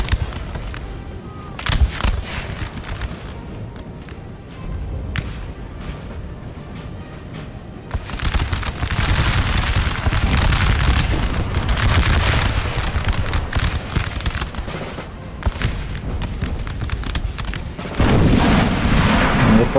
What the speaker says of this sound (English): And they're firing cannonballs.